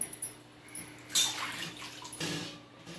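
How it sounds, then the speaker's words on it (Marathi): Mangoes are rinsed in water, giving soft splashes and a brief trickle, fairly quiet and close, with no voices. "हे आंबा आता स्वच्छ धुवून घ्यायचा आहे आपल्याला"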